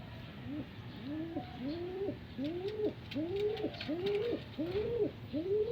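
Pigeons coo steadily in a repeating rhythm, several soft rolling calls close by, with faint background noise.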